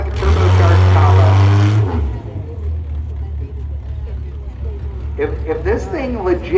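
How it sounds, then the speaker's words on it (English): A loud, deep engine drone from a VW drag car at Las Vegas Motor Speedway booms for about two seconds before cutting off, leaving a low rumble, then a voice talks near the end. "This thing sounds like a turbocharged Tahoe."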